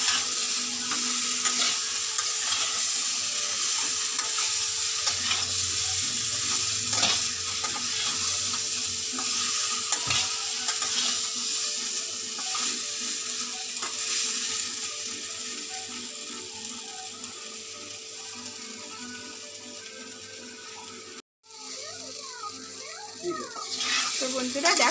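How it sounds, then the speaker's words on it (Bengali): Spice paste with radhuni (wild celery) paste being fried and stirred in a pan, a long continuous sizzle with occasional scraping of the utensil, brief clinks and a short break near the end. "একসঙ্গে এটা মশলাটাকে কষিয়ে নেব।"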